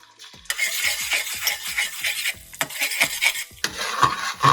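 Beaten egg hits hot oil in a pan for fried rice, bursting into a loud, close hiss after a quiet start, then crackling and rasping on with scraping surges and no voices.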